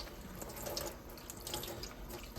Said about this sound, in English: I start with just turning on some warm water